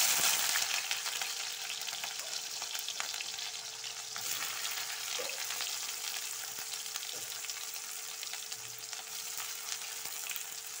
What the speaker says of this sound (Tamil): இப்போ நான் எண்ணெய் காஞ்சிட்டு நான் வெங்காயத்தை முதல் போடுறேன்.